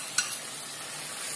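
Ayam Bumbu RW chicken in a pan gives a soft, steady hiss of frying with one brief scrape of stirring near the start, quiet and close.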